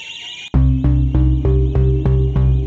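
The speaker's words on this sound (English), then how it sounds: "You just pulled the fire alarm" A loud fire alarm blares in rapid repeating electronic pulses after a sudden start, harsh and steady, with no talking.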